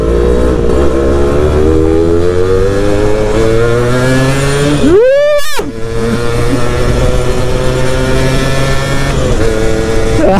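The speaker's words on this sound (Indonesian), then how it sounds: "Sumpah gokil nih motor." Motorcycle engine climbing a steep road in third gear, a loud, close steady drone with rising harmonics as the throttle opens, one brief dip partway through, then continuing strongly without speech.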